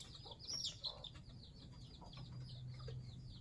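Chickens clucking in a coop, faint and somewhat distant, with soft intermittent clucks and chirps over a low steady hum.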